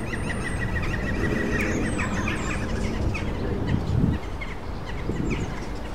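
Wild Amazon parrots in Germany give sharp, scattered squawks and chirps while attacking a jackdaw nest, set against a steady outdoor rumble, moderately faint.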